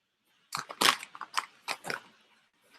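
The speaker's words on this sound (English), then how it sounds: "Now, listen to the closed mouth crunch." Close crunching of potato chips chewed with the mouth closed, a quick series of crisp bites and crackles, then quiet.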